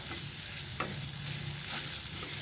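Masala for aloo matar bhaji fries and sizzles steadily in a pan while a spoon stirs it, with a few sharper scrapes standing out over the continuous hiss.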